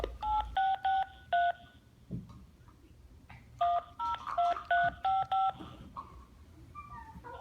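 Telephone keypad dialing tones ring out as a number is punched in to call Bell, with two quick runs of distinct beeps separated by a short gap and faint room noise underneath.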